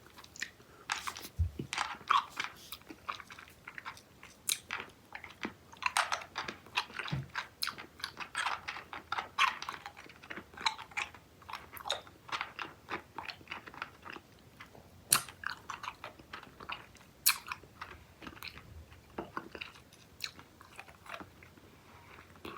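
Sour Mike and Ike Mega Mix fruit candy being bitten and chewed close to the mic, crisp crunches and sticky chewing in irregular bursts with no talking.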